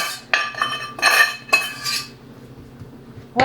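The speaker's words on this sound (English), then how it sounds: "Bring it over to the counter, scrape it out of the pan." A utensil scraping homemade play clay out of a metal pan at a kitchen counter: several loud, close metallic scrapes and clinks in quick bursts, then a pause and one final clink.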